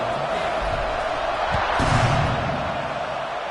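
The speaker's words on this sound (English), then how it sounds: "this crowd is buzzing after that last score" A football stadium crowd at a Baylor at Tech game buzzes steadily after a score and extra point, a dense broad roar that swells slightly midway with no clear talk over it.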